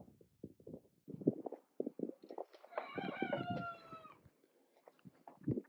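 Chickens in a chicken tractor cluck in quick, close bursts, and a rooster crows once partway through with a drawn-out call, all heard without talking.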